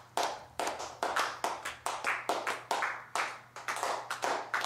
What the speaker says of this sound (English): I do want to give a special round of applause to our world-renowned kicker